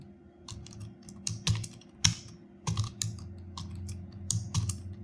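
Hindi text is typed on a computer keyboard in the Mangal font, a close run of crisp, uneven key clicks and taps with occasional heavier strokes and no talking.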